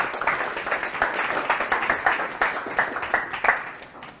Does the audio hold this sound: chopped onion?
no